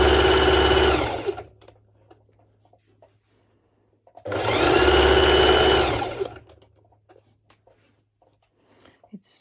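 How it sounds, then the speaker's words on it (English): A sewing machine runs a straight basting stitch on a sporty mesh top with pinned elastic, in two loud, steady bursts of about one and two seconds separated by quiet, with faint handling noises between them. "And now I do the straight stitch, which I was telling you about. It's actually the same. It's a basting stitch"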